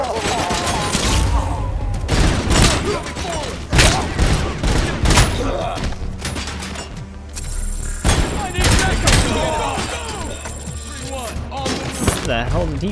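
Heavy gunfire and explosions fill a firefight in the RoboCop: Unfinished Business video game, with dense bursts, booming thuds and rattling shots running continuously and loudly, with voices shouting over the battle.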